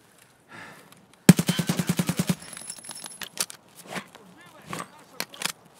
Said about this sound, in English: Gunshots ahead, multiple footsteps